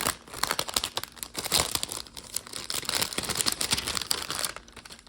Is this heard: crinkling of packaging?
yes